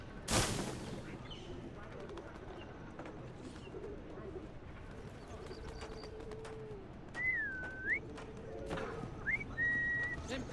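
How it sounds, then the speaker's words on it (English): Kids whistle in the Assassin's Creed Syndicate game, a few faint, brief rising and falling tones set against low street ambience with a sharp thump at the start. "kids whistling again."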